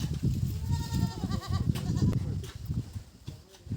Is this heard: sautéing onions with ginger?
no